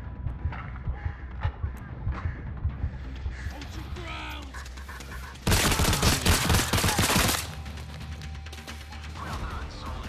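Gunfire in the VR shooter Zero Caliber: scattered shots and impacts early on, then a dense burst of rapid automatic fire lasting about two seconds before fading back to lighter game noise.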